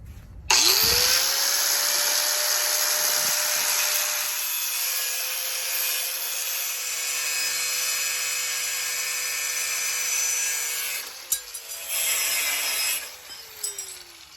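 A power cutting tool slices through metal straps from a wine barrel, making a loud, sustained high-pitched grinding whine that holds steady for about ten seconds, briefly cuts out, then returns in shorter bursts.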